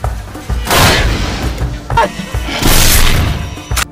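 Loud bursts of gunfire and booming blasts from an action film in which characters shoot at a swarm of strange ants in an African desert, coming in several heavy, crashing volleys.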